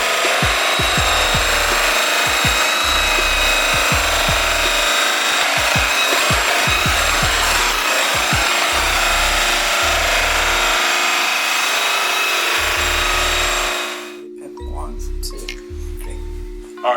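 Metal is buffed on a flannel polishing wheel loaded with Blue Moon compound at roughly 1,600 to 1,800 RPM. The close, steady whirring rub runs under a man's speech and stops abruptly near the end.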